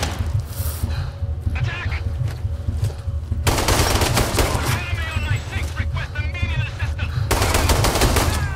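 Sustained automatic gunfire and rapid shot bursts in the shooter game Sniper Ghost Warrior 3, loud and dense throughout, with brief lulls and renewed volleys, plus faint voices underneath.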